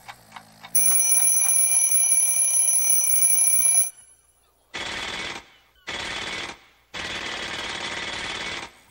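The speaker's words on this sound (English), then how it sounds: "They don't even wake up to the sound of the alarm clock." A loud alarm clock rings nonstop for about three seconds and then cuts off, followed by three bursts of harsh mechanical rattling.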